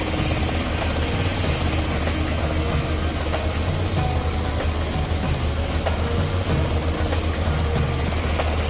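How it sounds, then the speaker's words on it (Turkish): Steady, loud rotor-like engine roar of a helicopter flying nearby fills the whole stretch, a continuous low throbbing drone with no talking. "helikopter yanımızda."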